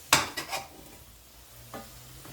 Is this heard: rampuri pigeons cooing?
no